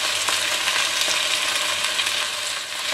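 Onions cook in a pan for onion soup, a dense, steady, close sizzling hiss that barely changes, with faint clicking underneath and no voices.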